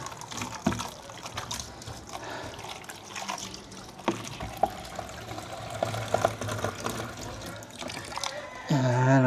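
An animal laps and slurps water close by, with faint trickling and splashing, then a brief louder noise at the end.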